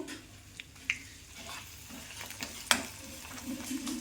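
Garlic chili paste fries in hot oil with cumin and asafoetida for a dry garlic chutney, giving a soft, steady sizzle punctuated by a few sharp pops and a bright clink of stirring.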